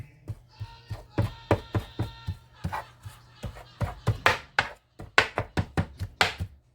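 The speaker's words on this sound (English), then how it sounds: "what I like to do is I like to chop it all up into pieces" Cheesesteak meat is chopped into pieces on a hard surface, a quick run of around twenty sharp, close strikes in uneven rhythm, some in quick pairs, with a brief pause near the five-second mark.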